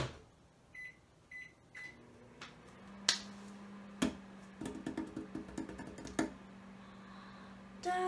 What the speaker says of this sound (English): we put it in the microwave